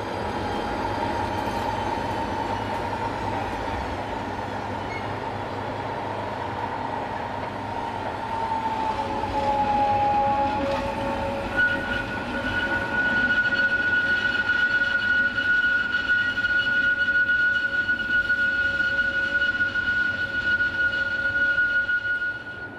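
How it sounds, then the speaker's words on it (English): Swiss railway coaches shunted into carriage sidings beside station platforms: a steady rumble of rolling stock with long high-pitched wheel squeals rising mid-way, continuous and fairly close, no talk. "The coaches are all in the process of being shunted into the carriage sidings adjacent to the station platforms."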